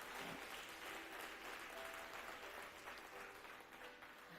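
A church congregation applauding during a service, a steady, moderately distant patter of many hands clapping that fades slightly toward the end.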